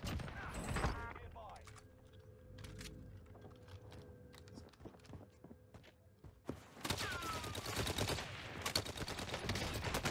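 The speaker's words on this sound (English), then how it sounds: "Owen gun from 10 meters with the rapid barrel" An Owen gun fitted with a rapid barrel fires in a video game at 10 meters. Scattered mechanical clicks lead into a dense, loud burst of rapid automatic fire near the end, with brief talk early on.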